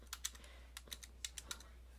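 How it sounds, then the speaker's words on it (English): Several quick, light keystrokes on a computer keyboard as a password is typed, arriving in short uneven bursts with brief pauses, faint and close over a steady low hum. "type in my password"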